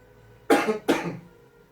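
Two quick, close coughs in succession, otherwise quiet.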